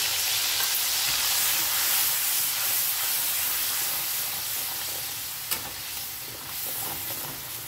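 Spice paste hits hot oil with pointed gourd and sizzles steadily in the pan, a loud continuous hiss with slight stirring scrapes and one brief clink.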